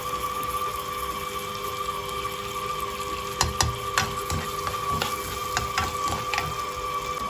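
Onions frying in a pan, a soft continuous crackle with a steady hum beneath and a cluster of sharper pops and clicks toward the end, quiet and close with no voices.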